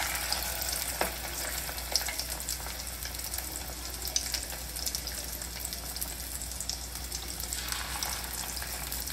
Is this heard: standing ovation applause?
no